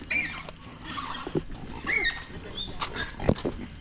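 Pigs on a small Filipino backyard hog farm give short grunts and oinks at close range, several animals over a few seconds, against ambient farm noise.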